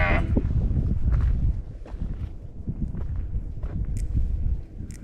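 Sheep on a farm in Canada bleat several times amid shuffling hooves and general flock movement, close by and fairly loud, with a few sharper calls toward the end.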